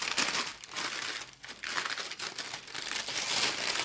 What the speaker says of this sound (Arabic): ملي غادي نطوي الثوب ديالي